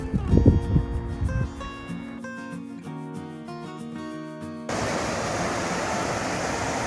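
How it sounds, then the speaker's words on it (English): A small mountain waterfall in the Mount Zirkel Wilderness, fed from a lake above, comes in at the end as a steady, full rushing roar. Sustained tonal sounds fill the moments before it. "Another beautiful little waterfall here."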